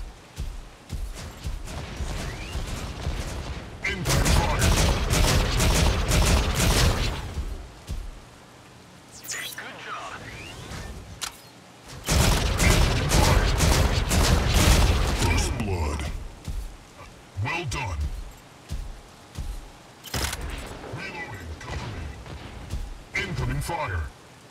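Incoming weapon fire in the Mech Arena battle game arrives in long, dense bursts of booming, rattling impacts separated by quieter stretches, with game voices speaking.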